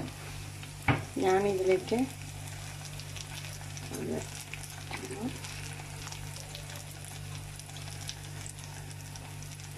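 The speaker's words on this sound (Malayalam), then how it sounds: "കുറച്ച് കറിവേപ്പില ഇട്ട് കൊടുക്കാം" Curry leaves sizzle in hot oil for a spicy fish curry, with a steady crackling hiss and a brief loud burst as they hit the oil, while a voice speaks briefly over the frying.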